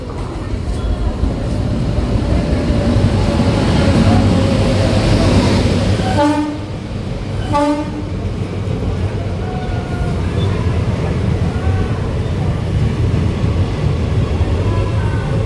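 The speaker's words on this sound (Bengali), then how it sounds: "এখন 1 নম্বর প্ল্যাটফর্মে ট্রেন আসছে, শিয়ালদা যাওয়ার ট্রেন, ভাগীরথী এক্সপ্রেস" A Bhagirathi Express bound for Sealdah pulls in at platform 1 of a busy station, its steady rumble filling the scene while two short horn blasts ring out close together midway through.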